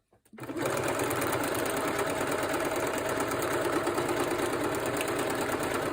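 A sewing machine runs steadily, stitching decorative embroidery stitches onto paper ephemera, a continuous close mechanical whir with rapid needle chatter that starts after a brief silence and holds at an even level throughout.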